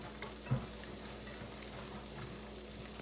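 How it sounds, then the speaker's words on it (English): Garlic cooks in a pan while a whisk stirs it for keto shrimp Alfredo, a soft, steady low sizzle with light scraping and one brief louder clink near the start, no talking. "We're going to go ahead and whisk this around just so that the garlic can kind of cook for a few minutes"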